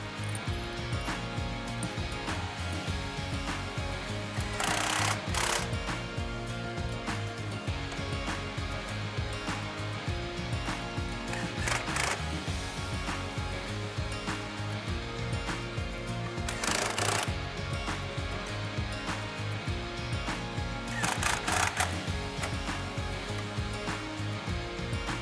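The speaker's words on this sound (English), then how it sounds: "we have all the bolts started and tightened down a little bit with the impact wrench" Impact wrench on pump housing bolts during maintenance of a PVP double disc pump, heard as repeated short rattling bursts of hammering over a continuous loud machinery drone, with no talking.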